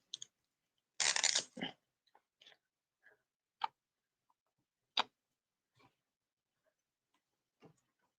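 Plastic wrapping on a deck of playing cards being bitten and chewed open: a loud burst of crinkly crunching, then scattered sharp ticks and crackles spaced out over several seconds, close to the mic with no talking.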